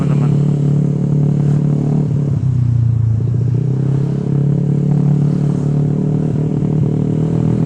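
A Yamaha NMAX scooter fitted with a BRT 32 throttle body and not yet retuned ECU revs loudly and close, a sustained rough engine drone rising briefly in pitch mid-way, with some mechanical clatter.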